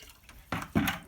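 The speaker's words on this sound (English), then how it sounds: "So I'm gonna fill my bucket with water" Water poured into a bucket outdoors for separating mud from rocks when making clay, two short splashing gushes about a quarter second apart, fairly close.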